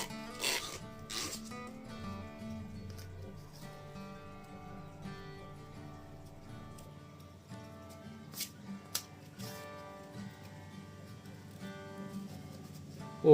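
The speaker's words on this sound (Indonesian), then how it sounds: "tinggal di amplas lagi" Soft, steady rubbing and rasping of sandpaper on a small hard microfishing rod part, close and quiet, with a few sharper scrapes along the way.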